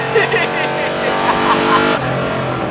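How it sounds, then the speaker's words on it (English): A loud, roaring nitrous-boosted Mercedes E55 AMG engine revs hard and rumbles continuously, with a voice briefly audible over it and an abrupt drop near the end. "this thing just sounds like a Top Fuel dragster"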